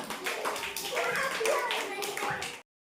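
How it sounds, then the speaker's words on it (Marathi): Children in a first-grade classroom clap their hands together in a steady run of claps, with a teacher's voice and kids' chatter mixed in throughout. "छान टाळ्या वाजवा टाळ्या वाजवा"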